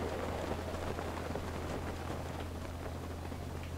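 Steady rain falling in the video game Zelda: Breath of the Wild, a constant dense hiss of drops with faint scattered patter, even and unbroken throughout.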